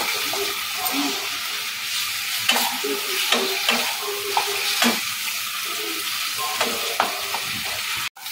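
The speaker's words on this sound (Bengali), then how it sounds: "এবার নেড়ে চেড়ে চিকেনটাকে একটু ভাজা ভাজা করে দেব।" Chicken sizzles in a wok as it is stirred and fried, the steady hiss broken by repeated scraping strokes of a spatula against the pan, close and loud.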